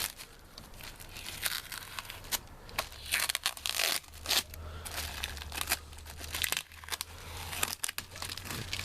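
Garbage bag and cardboard protective layers on a squashed Toyota Echo are peeled back, giving close, irregular crinkling, rustling and tearing noises throughout.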